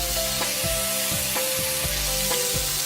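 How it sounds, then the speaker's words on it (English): Meat charring in a hot pan for a Vietnamese dish, with a steady loud sizzle broken by a few soft clinks and stirring knocks from the utensils. "So you just want to char it nice and brown on the outside"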